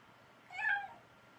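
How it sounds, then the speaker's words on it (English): A single domestic cat meows once indoors, a short, clear mid-pitched call rising and falling in under half a second, close by and alone over quiet room tone. "We named our cat Faith."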